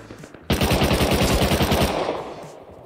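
Rapid automatic gunfire in the video game Rust Console, a loud sustained burst of evenly spaced shots lasting about a second and a half before tapering off.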